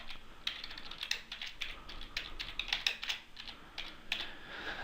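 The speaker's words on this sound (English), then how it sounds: "so we'll just type that in right now" Fingers type on a computer keyboard while a database name is entered, a quick, irregular run of light clicking keystrokes, close and fairly quiet with no voices.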